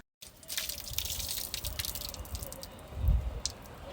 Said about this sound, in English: the timber's obviously dried out enough that's just letting a few leaks happen